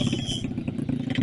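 Overbored Suzuki GSX-R150 motorcycle engine running with a steady low throb and a light rapid ticking clatter on top, continuous and close, with no talk.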